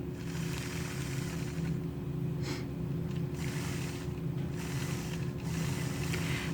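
A sewing machine runs steadily while machine quilting a patchwork block, a continuous mechanical hum with rapid needle chatter throughout, close and fairly quiet, with no talk.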